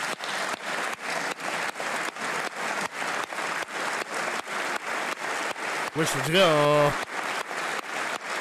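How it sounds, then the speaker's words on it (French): Applause in the French National Assembly: steady, dense clapping from a large chamber with a pulsing rhythm, with a brief voice and a whistle-like tone cutting through near the end. "c'est quoi les applaudissements?"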